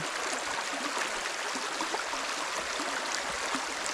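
Stream of clear water flowing beside a bike path, a soft, steady rushing and trickling wash that stays even and fairly faint, with no voices.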